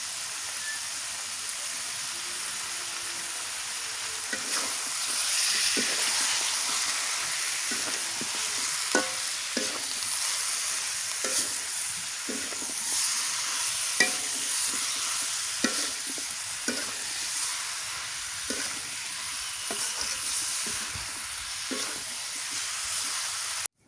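Bottle gourd being stirred into a pan of cooked-down spices for a river fish curry, with a steady sizzle and regular, rhythmic scraping strokes of a spatula throughout.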